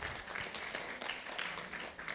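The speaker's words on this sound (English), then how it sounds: "Let's give them applause." Audience at the ISEMANTIC 2025 conference clapping as speakers come onto the stage, a steady dense patter of many hands, fairly distant and faint, with no talk over it.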